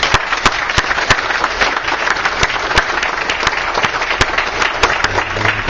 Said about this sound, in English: So I think we should give Bobby a round of applause.